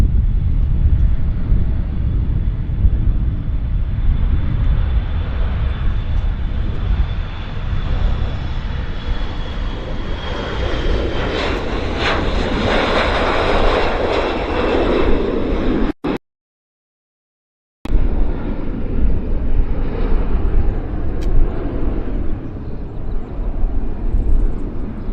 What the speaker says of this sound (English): Okay, now we've got United Airlines 737 taxiing into position.